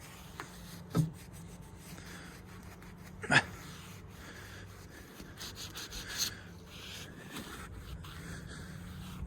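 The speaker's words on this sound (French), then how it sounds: "Donc petit coup de nettoyage, ça fera pas de mal." Scrubbing clean the window seal channel of a three-door Peugeot 205, faint soft rubbing strokes with a few sharper knocks and scrapes spread across a quiet background.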